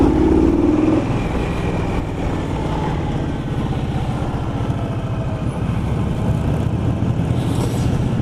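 An Indian Scout motorcycle on the move: a steady engine drone with road and wind rush, holding a fairly even level throughout, with no talking.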